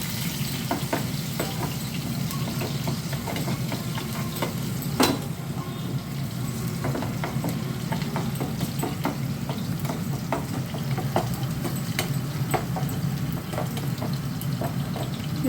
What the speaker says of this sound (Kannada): ಬೆಳ್ಳುಳ್ಳಿ ಫ್ರೈ ಮಾಡ್ಕೋಬೇಕು